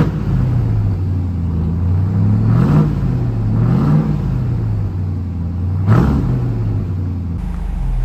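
A RAM TRX 1500 Havoc Edition V8 pickup idles with a deep rumble indoors, then takes three blips of the throttle, two moderate revs and a sharper third, each settling back to a steady idle.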